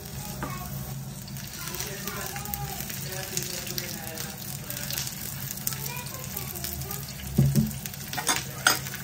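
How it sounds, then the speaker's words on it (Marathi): Roughly chopped medium onions frying in one to two spoons of oil for a rustic mutton curry, giving a steady sizzle with occasional stirring clatter and louder scrapes near the end. "2 मीडियम साईजचे कांदे मी रफली चॉप करून घेतलेले आहेत, ते आपण 1-2 चमचे तेल घालून भाजून घेऊयात"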